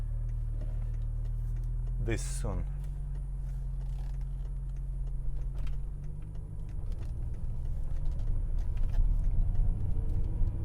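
Cold-engine BMW E64 M6 driving through a residential neighborhood in automatic mode, a steady low engine and road rumble throughout that grows slightly louder toward the end, with a brief voice partway through.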